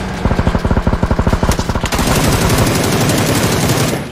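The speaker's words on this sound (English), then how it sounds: "Okay, we're shooting." Rapid video game gunfire: a fast, evenly spaced string of sharp, loud automatic shots for about two seconds, followed by a sustained, dense roar of firing that fades out at the end.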